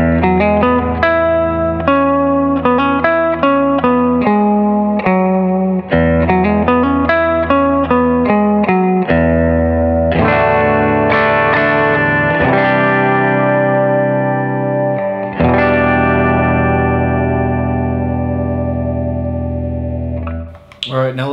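Electric guitar through a Big Ear ELLE reverb pedal, strummed chords and picked notes ringing into long, lush reverb tails, loud and continuous with no talking.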